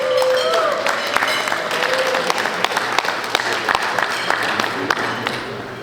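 An audience at a track team awards brunch applauds a recipient with dense, sustained clapping from many hands that carries on for several seconds, with a brief voice near the start.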